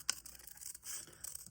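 Scissors snip and rustle through paper to cut out a small tumbler sticker, a quick close crinkling cut followed by soft paper handling.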